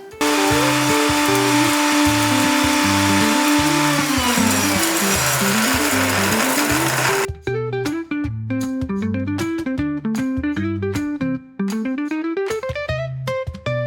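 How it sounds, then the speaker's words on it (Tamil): Mixer grinder powdering roasted urad dal, a loud steady whirring motor with rhythmic pulses throughout, briefly cutting and restarting partway, with no talking. "உடனே இதை எடுத்து மிக்சியில் போட்டு அரைக்க போகிறோம்"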